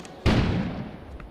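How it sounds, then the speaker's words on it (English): A single deep, muffled video game explosion bursts out abruptly outside, its low rumble decaying over about a second. "An explosion suddenly occurred outside."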